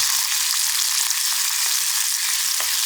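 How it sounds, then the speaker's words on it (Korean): Sliced pork shoulder stir-frying in cooking oil in an earthenware pot or saucepan over medium-low heat, giving a loud, steady sizzle throughout with a few soft stirring knocks. "식용유 2스푼 두르고 달구어지면 썰어놓은 앞다리살을 넣고 달달 볶아"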